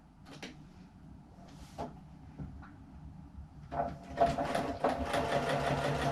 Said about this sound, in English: top stitch fairly close to the edge